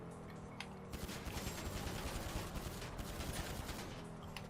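Rapid gunfire in GTA Online aimed at a truck's hinges during a mission, a dense burst of automatic shots lasting several seconds, loud and close over game background noise, with no talking.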